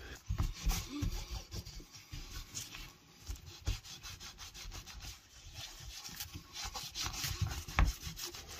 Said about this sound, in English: You put it on there, let it sit a couple of minutes, and then rub it in.